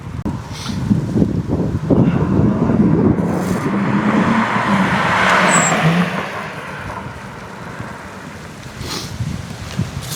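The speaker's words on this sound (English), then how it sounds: "That car is insanely quiet." A BMW F80 M3 with a quiet exhaust driving past, a smooth rising and falling engine hum swelling toward the middle then fading, with wind buffeting the microphone throughout.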